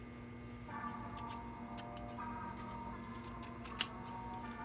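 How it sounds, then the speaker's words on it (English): Scissors snipping through plastic material during a skull crow combat robot build, with a few quiet cuts and one sharper snip near the end, close up, against a low steady background hum. "Just trimming some of this stuff down."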